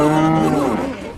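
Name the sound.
cow mooing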